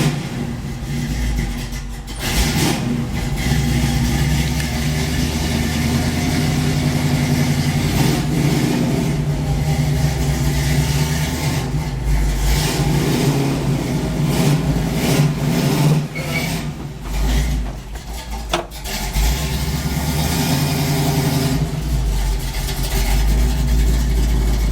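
A car engine with a fresh one-day paint job warms up and then backs out, a steady close low rumble that holds throughout with a few small shifts in revs.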